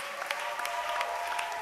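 A church congregation applauding Jesus, a steady spread of many hands clapping at moderate distance with a few sharper claps standing out, no voices above the clapping.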